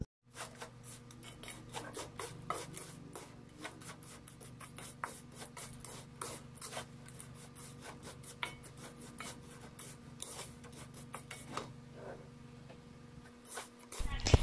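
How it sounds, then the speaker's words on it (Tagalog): Leftover cooked rice being stirred through melted sugar in a pan, a steady run of quick scraping and rasping strokes close by, with a constant low hum beneath. "Haluin lang ito hanggang sa makoat ng asukal ang ating pa-fries."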